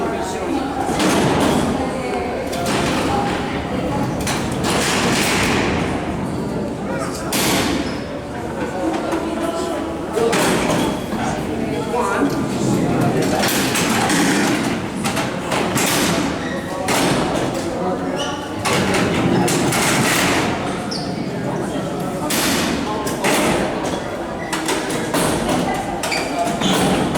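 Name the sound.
prison cell doors sliding open and shut at Alcatraz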